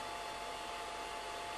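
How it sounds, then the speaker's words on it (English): A hair dryer blows steadily on a scale model of armour, drying white spirit off it: an even, continuous whooshing hiss at low level, unbroken throughout with no voices. "I've got the hairdryer, which I don't know how it's going to go over the microphone, but just trying to dry that white spirit off."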